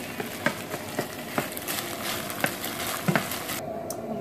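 Beef frying in oil until crispy gives a steady sizzling hiss, with periodic scraping and tapping from stirring in the pan, close and continuous.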